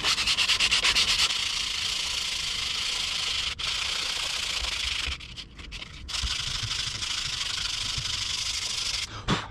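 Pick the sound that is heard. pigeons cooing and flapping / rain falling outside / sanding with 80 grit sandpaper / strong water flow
sanding with 80 grit sandpaper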